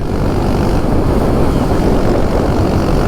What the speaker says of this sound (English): Still pleased with the Terminioni pipe. It gives a little bit of it gives that rasp without being too loud.